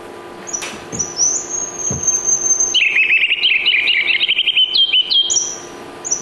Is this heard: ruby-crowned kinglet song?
yes